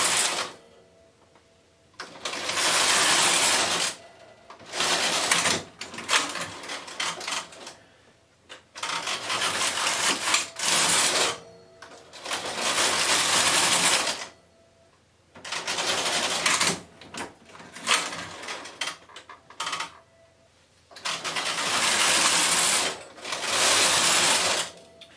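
Brother KH 970 knitting machine working a three-colour double-bed jacquard, its carriage rattling across the bed in repeated loud mechanical passes of a few seconds each, separated by short quiet pauses.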